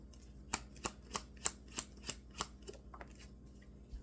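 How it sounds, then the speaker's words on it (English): Tarot cards shuffled by hand in a series of about eight crisp, evenly spaced riffling snaps, close and clear with no talking. "then shuffle to get that third card"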